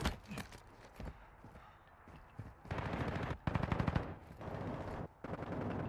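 Rapid video game gunfire, with bursts of automatic fire coming in separate loud stretches and short pauses between them, heard alone without talk.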